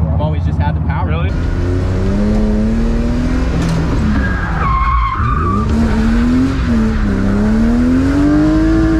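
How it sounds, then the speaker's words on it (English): A car street drifting into a clutch-kick feint entry gives loud, sustained tire squeal that rises and bends in pitch over a roaring engine, with a brief voice near the start. "I might have to actually clutch kick. I've never had to clutch kick a feign entry before."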